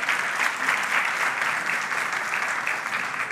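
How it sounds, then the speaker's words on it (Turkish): Studio audience on a Turkish television talk show applauds as a woman guest is welcomed, steady dense clapping held evenly throughout at close, full level with no talking over it. "Alalım hanımefendiyi alkışlarla."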